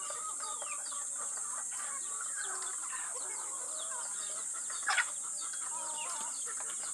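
Several chickens cluck and chatter close by while feeding on rice, a busy, continuous flurry of short calls, with one louder squawk near the end.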